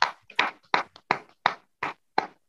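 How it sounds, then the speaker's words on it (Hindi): Audience clapping as guests are invited onto a stage, heard as about seven distinct, evenly spaced claps in a slow rhythm, close and crisp with silence between them. "इस पिन पर हम आप लोगों की जोरदार तालियों के साथ इनवाइट कर रहे हैं"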